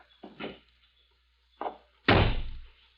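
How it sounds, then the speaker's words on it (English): A radio-drama car door effect: a couple of soft handling clunks, a pause, another light knock, then one loud, heavy slam that rings out in a quiet room. "stand aside while I release the brake and close the door"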